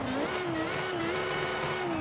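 A tuned car engine in Forza Horizon 5 holding a high, steady rev near its limit, a continuous buzzing whine with slight pitch wobbles, close and sustained throughout.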